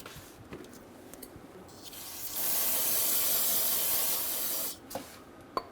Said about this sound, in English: Spray the area using some TRQ brake clean,